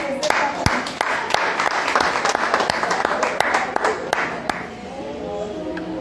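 Applause fills a teaching session on abundance and prosperity, a steady wash of clapping with sharp individual claps standing out, fading toward the end as a voice begins speaking.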